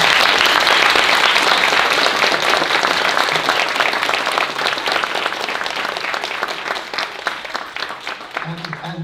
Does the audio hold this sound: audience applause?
yes